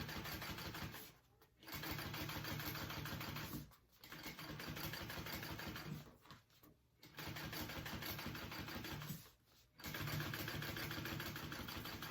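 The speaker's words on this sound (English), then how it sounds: "we're going to top stitch that" A sewing machine topstitches a tote bag seam in long, steady runs of rapid mechanical whirring, close and loud. It pauses briefly several times between bursts.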